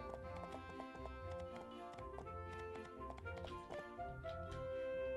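Horse hooves clip-clopping in the game My Time at Portia, a steady run of light, quick hoof taps over looping game music, with a faint whinny mixed in.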